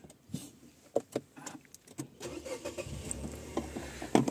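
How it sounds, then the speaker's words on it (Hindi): Inside a Nissan Magnite Turbo, the start-stop button is pressed: soft clicks and interior knocks come first, then the engine turns over into a low, fairly quiet rumble that settles toward idle. "ये इंजन स्टार्ट स्टॉप का बटन"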